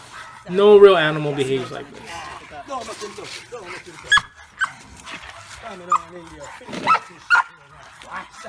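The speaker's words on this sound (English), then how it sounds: "Just watch how the dogs are behaving and react." A dog whines and yelps in a high, wavering cry, followed by several short, sharp barks spaced apart, close by and fairly loud.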